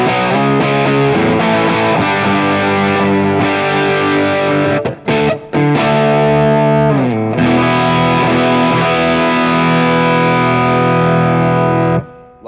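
An electric guitar plays through a Timmy overdrive on a Line 6 Helix with a JTB Fawn impulse response, giving loud, sustained, mildly driven chords that ring continuously with a brief break midway and no delay or reverb changes.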